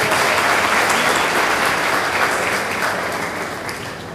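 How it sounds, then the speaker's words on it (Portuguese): A school audience gives a standing round of applause for the karate team, a broad wash of clapping that holds steady and then gradually tapers off near the end. "peço a todos uma salva de palmas para a equipe do karatê"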